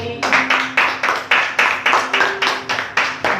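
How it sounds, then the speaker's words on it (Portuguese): Church congregation clapping in unison, about twelve sharp, evenly spaced claps in a steady rhythmic beat, loud and close, with no talk over them. "E quem crê diz amém e palmas ao Senhor."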